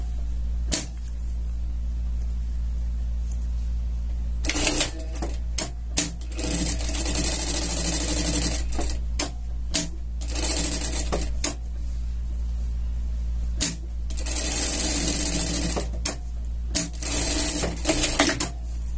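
A sewing machine topstitching fabric on a costume runs in several separate bursts of rapid stitching, close and fairly loud, with quiet pauses between runs over a steady low hum.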